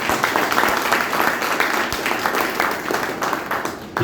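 An audience at a health awareness program in Vastral claps for the leaders in the room with loud, steady, dense applause that keeps going throughout with no break.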